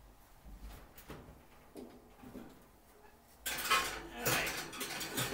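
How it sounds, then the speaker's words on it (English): A chainmail scrubber scrapes and jangles against a cast iron cornbread pan, with faint light clinks at first, then a loud stretch of metallic scrubbing and clattering near the end. "So while it is certainly tough enough to scrape all of the residue off of a pan, it will not actually scratch the seasoning."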